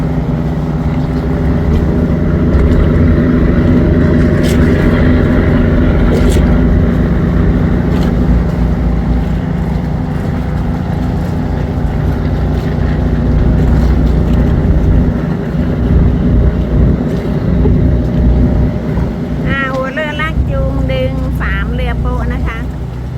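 A tugboat tows a cargo ship along the Chao Phraya River past Wat Phanan Choeng in Ayutthaya, its steady, loud engine drone running throughout under a voice, with a brief squealing noise near the end.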